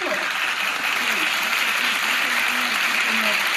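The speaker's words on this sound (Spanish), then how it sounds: "vamos a dar un fuerte aplauso para el sujeto" Sustained applause from a crowd, steady and fairly loud, with a voice faintly audible underneath.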